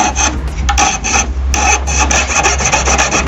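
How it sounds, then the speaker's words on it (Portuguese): A hand saw cuts through a piece of wood in a luthier's workshop, with steady rasping back-and-forth strokes, loud and close, with no talking. "e cortar um pedaço com uma serra"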